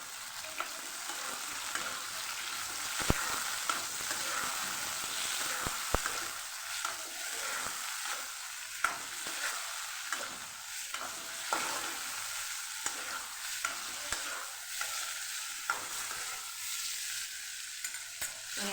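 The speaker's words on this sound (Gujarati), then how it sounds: "અહીંયા આપણે ટમેટાને પણ થોડા સાતળી લઈશું એની સાથે." Onion and tomato sauté in a pan for a garlic tomato chutney, a continuous soft sizzle broken by frequent stirring scrapes and occasional sharp utensil taps, close and fairly quiet.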